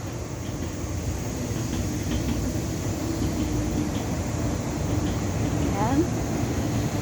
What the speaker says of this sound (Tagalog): ayan naman po ay isang train. Papunta ng Taiwo